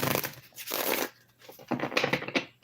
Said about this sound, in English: Got to get them a good shuffle.